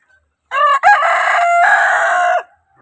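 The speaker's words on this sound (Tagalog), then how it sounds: "Nandito ko sa kulungan ng manok eh." A rooster crows loudly and close by in a chicken coop, one long, drawn-out call of about two seconds with a brief break near its start, set against otherwise quiet surroundings.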